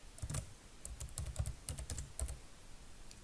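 Bursts of keystrokes on a computer keyboard while entering an SQL query, clustered in quick irregular runs with short pauses, close and moderately quiet with no voices.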